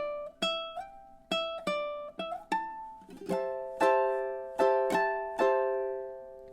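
Fingerstyle ukulele plays two measures of a cheerful summer melody: a run of quick plucked single notes, then several ringing chord-like plucks at a steady beat, close and clear with no talk.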